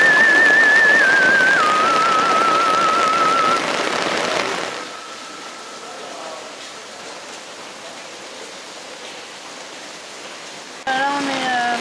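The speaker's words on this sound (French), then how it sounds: "il pleut depuis hier soir" Steady rain falls outside during a caving expedition in the Totes Mountains, a broad continuous hiss that is loud at first and then settles to a softer, even wash, with brief voices heard near the start and end.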